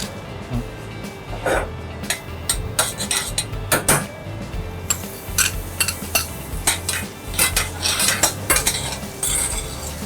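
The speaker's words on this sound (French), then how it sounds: "on va mettre 20 g de beurre environ et on fait caraméliser un peu la poire" Pear pieces caramelize in about 20 g of butter in a hot pan, with a utensil stirring and clinking against the metal in sharp irregular taps over a low, faint sizzle.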